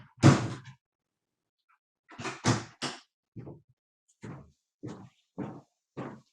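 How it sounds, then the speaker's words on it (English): An office door is shut with a loud thud at the start, then a cluster of clunks from the latch and handle, followed by several evenly spaced soft knocks or taps in an otherwise quiet room. "I'm going to just close the door to my office for a second"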